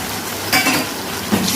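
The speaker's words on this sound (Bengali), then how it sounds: "এবার এটা একটু ভালো করে কষাবো, আদা রসুন টমেটোর কাঁচা গন্ধটা না যাওয়া অবধি" Ginger, garlic and tomato puree sizzle and are stirred in a pan for chicken do pyaza, a close, loud hiss punctuated by two quick metallic clinks of a spatula against the pan.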